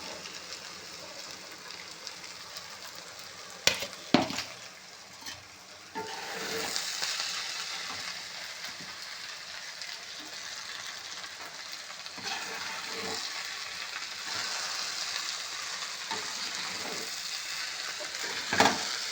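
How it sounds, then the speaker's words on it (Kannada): Avalakki (flattened rice) with salt frying and being stirred in a pan, a continuous sizzle punctuated by scraping and clacking stirs, close and clear. "ಅವಲಕ್ಕಿ ಹಾಕಿ ಮಿಕ್ಸ್ ಮಾಡೋಣ."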